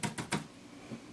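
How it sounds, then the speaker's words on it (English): Keys on a laptop keyboard are struck hard, picked up by a TONOR TC30 condenser computer mic: three quick, close clacks, then softer scattered taps. "I was slamming the keys pretty hard over here on the"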